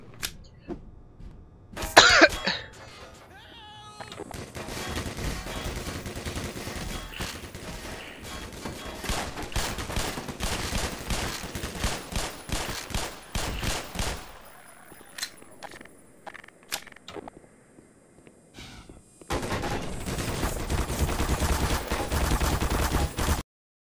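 Gunfire from the video game Black Mesa: repeated sharp shots and bursts scattered across a long stretch, loud and close, with brief quieter gaps and no talk.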